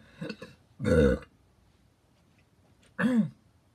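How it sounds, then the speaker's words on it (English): A couple of loud, close burps separated by a pause, with a brief throaty sound just before the first. "Pardon me if I burp."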